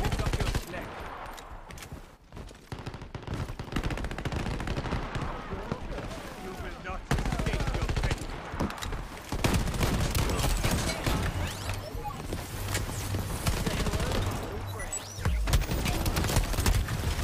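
Gunfire in the PvP shooter game Shatterline: rapid automatic bursts and single shots crackle throughout, mixed with game effects, while a player talks over them.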